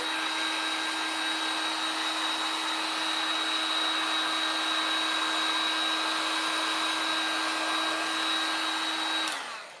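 Handheld heat tool blowing over wet craft paint on a Snoopy cookies and cocoa riser, a steady close whine and airy rush holding evenly for about ten seconds before cutting off.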